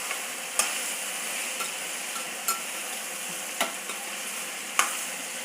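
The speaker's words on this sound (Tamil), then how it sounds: "அதுக்குள்ளே இந்த வெண்டைக்காயை அப்படியே கிளறி விட்டுட்டே இருக்கலாம்." Okra being stirred as it fries in a pan, a steady soft sizzle with a few light spatula scrapes and taps against the pan spaced a second or so apart, close by and with no talk.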